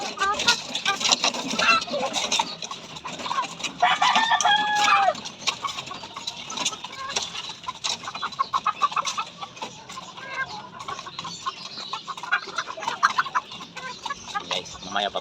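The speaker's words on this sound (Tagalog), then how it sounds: "papakainin na natin dito yung mga sisiw" Backyard chickens and chicks cluck and chatter close by at feeding time, with a louder hen call and a rooster crow near the start, while a person talks intermittently over the flock.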